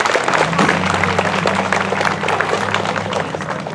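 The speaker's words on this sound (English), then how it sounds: "Let's give them a round of applause." Audience applause at an elementary school legacy celebration ceremony, loud continuous clapping from a crowd with a low sustained hum underneath, steady from start to finish.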